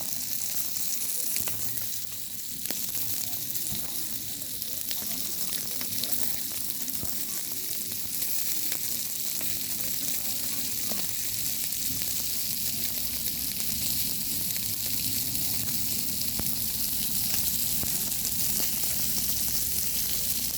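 Sucuk sausage sizzles and spits on a barbecue grill in a steady, close hiss of frying fat with small crackles, and there is no talk over it.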